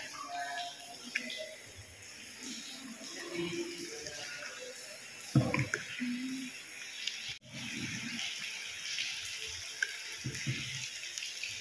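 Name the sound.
water dripping on rock in Palawan underground river cave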